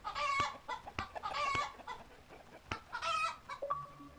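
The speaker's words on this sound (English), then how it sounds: "You have to kick chickens 20 times. So just keep kicking these chickens over and over again until the achievement pops." Chickens cluck and squawk in a quick run of sharp bursts as they are kicked in the video game Kick it, Bunny!, with short thumps between the calls.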